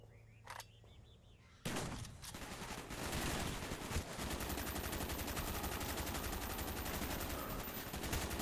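Sustained rapid automatic gunfire in a Call of Duty video game, loud and continuous after a few isolated shots at the start, with dense battle noise throughout and no talk.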